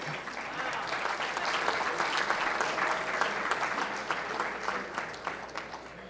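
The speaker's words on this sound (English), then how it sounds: "You may clap." Sustained audience applause fills the room at a Hampton University celebration honoring Dr. Walter Lovett, a steady dense wash of clapping from a large crowd lasting throughout, loud and continuous without speech.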